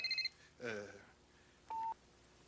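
A cellular phone keypad sounds several short dialing tones, then a brief voice-like burst, then one longer steady tone, all clean and close in a quiet indoor room.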